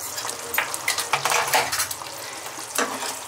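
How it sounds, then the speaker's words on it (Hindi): Spoon stirring cooked masala for soya chaap in a pan, a series of close, clattering scrapes and knocks against the metal over a light sizzle, with no talking. "चला के देख लेते हैं।"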